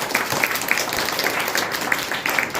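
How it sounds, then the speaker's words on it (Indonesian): A church congregation applauds during a sermon, with a continuous wash of many hands clapping at even volume and some crisp individual claps standing out. "Coba kasih tepuk tangan dulu dong buat Tuhan kita"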